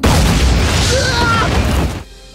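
A bomb blast in the anime Btoom, a loud, dense boom with crashing debris that roars across about two seconds before cutting off abruptly.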